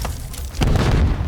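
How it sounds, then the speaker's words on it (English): Grenade detonating in Modern Warfare 3 ranked play, a single heavy boom that hits suddenly and rumbles low and loud for the rest of the moment. "Grenade."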